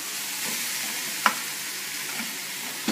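Steak frying in a pan, heard as a continuous close sizzle with a brief sharp tap partway through.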